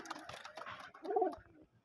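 Domestic pigeons in a loft coo softly, a low throaty coo rising briefly near the end, close but quiet, with faint background noise and no speech.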